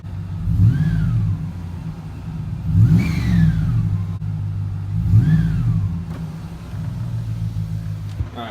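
Idling car engine, a RAM fitted with a GFB blow-off valve noise trumpet pushed into a hole cut in the air filter, rumbling steadily with three short revs that each end in a falling whistle-like whoosh.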